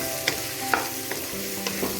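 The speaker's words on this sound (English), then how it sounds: "now I am adding the mushrooms. Now again stir fry this." Mushrooms stir-frying in a hot pan for noodles, a soft steady sizzle broken by a few sharp spatula scrapes and taps, close up with no talking.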